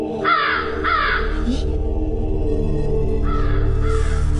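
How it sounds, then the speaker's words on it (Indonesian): A kedasi bird calls with a few harsh, croaking caws near the start and again toward the end, over a steady low hum with no talking. "Ibu dengar suara burung kedasi itu enggak, Bu?"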